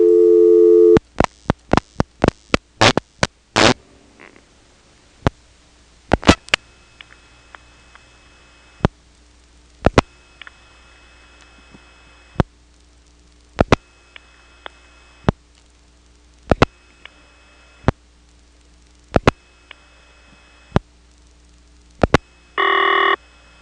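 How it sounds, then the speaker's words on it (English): A 1977 step-by-step telephone exchange in the Elizabeth City, North Carolina area dialing through tandem: rapid clicking pulses and relay clatter in bursts, then a ringing tone at the end. "Here's a ringing number in 338 reached by dropping the director and then dialing 6 for tandem, 8 for 338, and 4 digits"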